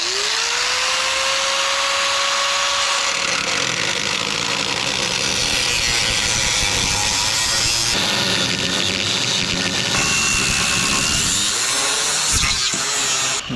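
An abrasive cutting disc grinds through a steel vehicle frame rail, a loud continuous whine with a rising pitch at the start, then steady harsh grinding that dips and surges near the end.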